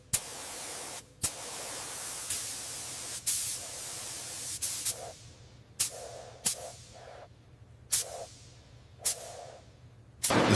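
A spray gun applies primer to an F/A-18E/F Super Hornet fighter jet in a series of roughly eight sharp hissing bursts, each fading away before the next, over a low background hum.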